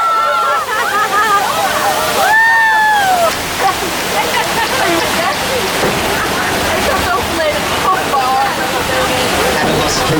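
Water splashes and rushes continuously at a Universal Studios Hollywood theme park attraction, loud and close. Voices speak and shout throughout over the steady wash of water.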